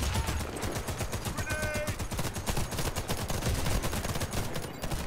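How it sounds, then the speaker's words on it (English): Rapid, continuous bursts of gunfire from the online co-op shooter Warface, dense and steady at close range throughout, with no talk over it. "Shot his fucking foot out."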